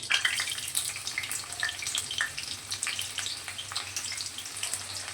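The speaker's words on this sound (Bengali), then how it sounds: "এর মধ্যে একটা পেঁয়াজ কুচি দিয়ে দেবো" Chopped onion sizzles and crackles steadily in hot oil tempered with green cardamom, cinnamon, cloves and dried red chilli, the start of a wedding-style mutton curry; a close, continuous frying hiss with scattered pops and no talking.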